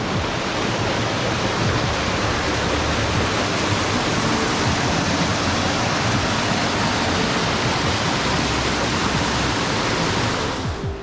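A waterfall in a canyon in the Santa Ana Mountains roars as a dense, unbroken rush of water, loud and close throughout with no other sounds.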